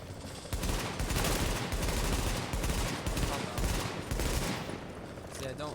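Automatic weapon firing at a high rate in The Division, with sustained rapid bursts that continue for several seconds and fade toward the end.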